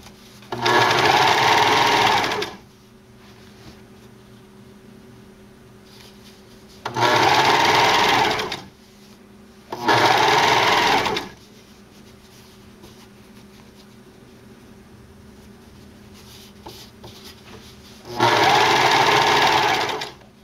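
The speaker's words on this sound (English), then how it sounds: "I'm serging this, you can see I'm only cutting off a little whisper of the edge." A serger overlock sewing machine stitches and trims the edge of fabric for a racer-back tank top, running in four loud bursts of about two to three seconds each, separated by quiet pauses with a low steady hum.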